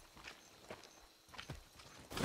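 Horse hooves clip-clopping in the video game Far Cry 6: a few soft, uneven hoof strikes at a slow walk, faint and sparse, ending in a louder burst of noise.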